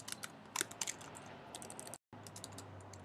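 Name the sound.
typing text on a computer keyboard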